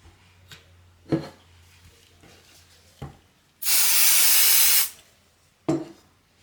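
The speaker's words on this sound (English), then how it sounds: "I'm going to take this medium cutaway interfacing and I'm going to spray it onto the back of here." Spray adhesive hisses onto medium cutaway embroidery interfacing for a custom hat: one loud, steady burst of about a second, close up, among scattered taps and handling knocks on a work surface.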